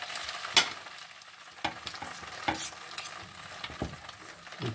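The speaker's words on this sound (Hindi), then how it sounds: "इसको बहुत अच्छी तरह बस मिक्स करें, चूल्हा बंद कर दें।" Spaghetti fried with vegetables and soy sauce, stirred in a pan in Asian style, with a soft steady sizzle and a few sharp scraping and clinking strokes from the utensil spaced through it, close and fairly quiet.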